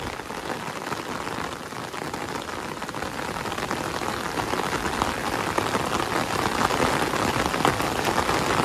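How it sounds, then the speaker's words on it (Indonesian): Heavy rain pours steadily on a mountain village lined with clinging houses, a dense, close hiss of drops drumming on surfaces that holds constant and grows slightly heavier throughout, with no voices. "Wow, ini lumayan deras ini hujannya ini."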